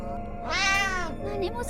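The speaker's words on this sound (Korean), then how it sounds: "어 고양이 또 나타났어." A cat in the horror video game Last Light lets out one drawn-out, plaintive meow, loud and close, set against a low droning game background.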